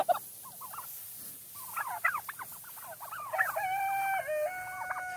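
Bourbon Red turkeys gobble in a pasture shared with cows. Several rattling gobbles and clucks come in bursts at moderate distance over quiet outdoor background.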